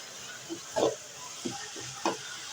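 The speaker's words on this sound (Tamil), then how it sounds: "இந்த தக்காளி நல்லா வதங்கி வரட்டும்" Tomatoes and onions cooking in a pan with salt and turmeric, heard as three or four soft scraping stirs over a faint, steady background.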